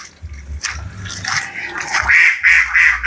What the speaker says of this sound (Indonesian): ada bebek juga